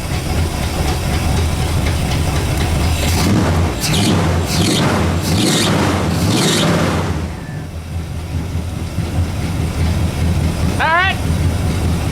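A Bonneville car engine runs steadily with a rough rumble and hiss, then a sharp, brief squeal rises near the end. A voice speaks once over the noise.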